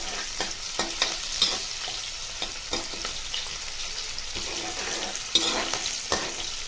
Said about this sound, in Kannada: ಹಾಗೆ ಕರಿಬೇವಿನ ಸೊಪ್ಪು ಕೂಡ ಸೇರಿಸ್ಕೊಂಡು ಚೆನ್ನಾಗಿ ಇದನ್ನು ಫ್ರೈ ಮಾಡ್ಕೊತಾ ಇದ್ದೀನಿ